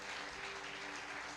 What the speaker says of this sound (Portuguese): dê um aplauso ao nome do Senhor Jesus nessa noite